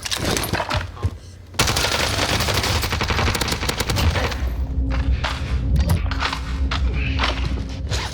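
Dense, loud automatic gunfire in Call of Duty Warzone, with rapid rattling bursts and a short lull before another long stretch of shots. Sporadic single cracks and footstep-like thumps follow.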